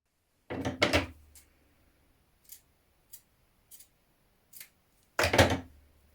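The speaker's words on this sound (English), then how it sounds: "And then we're just going to do a little snip in that centre." Scissors make a few crisp snips into the centre of fabric yoke pieces for a Butterick 6838 nightie: a quick pair of cuts, several small ticks, then another close, firm snip, with no talk.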